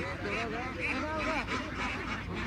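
Ducks at a village poultry market in Bangladesh give repeated nasal quacks and honks, several birds calling close by in quick succession amid crowd murmur.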